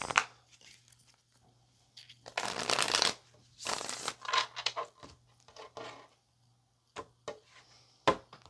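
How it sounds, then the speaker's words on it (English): Tarot cards are shuffled in several quick riffling bursts with brief pauses between them, close and crisp, against a faint low hum. "Let's get one more shuffle"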